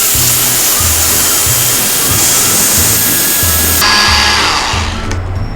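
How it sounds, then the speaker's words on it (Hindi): An electric grinder whirs loudly as it pulverizes achar gosht masala spices, a constant high roar with a rhythmic thumping underneath. The pitch shifts near the end as the motor winds down. "कलौंजी के अलावा तमाम मसालों को मैं ग्राइंडर में डाल के अच्छे से पीस लेती हूँ।"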